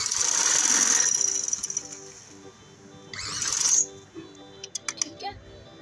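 A sewing machine stitches through fabric along a cut neckline on a designer maxi dress, with a steady mechanical whir that stops and starts, followed by several light clicks and taps.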